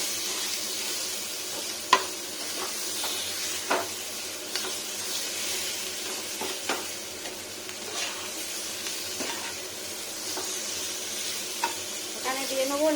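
Boiled potatoes fry in a pan for a thin egg curry, a steady close sizzle with occasional scraping stirs and light clinks, no talk.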